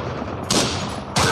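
Gunfire in the mobile shooter Call of Courage: a dense, steady stream of shots under heavy game noise, with two sharper, louder bursts standing out.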